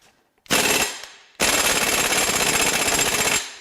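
A small power tool, likely an impact wrench, hammers at tight BMW N63 twin-turbo V8 crank pulley bolts: a short loud rattling burst, a pause, then a longer sustained hammering run, close and without talk.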